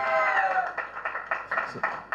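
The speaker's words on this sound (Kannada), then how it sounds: "ಮುರಳಿ ಮಾಸ್ಟರ್ ಜೋರಾಗಿ ಚಪ್ಪಾಳೆ ಬರಲಿ." Applause greets dance master Murali at the KCCL cricket jersey and trophy launch, heard as a short run of rhythmic, moderately loud claps from a small gathering that fades toward the end.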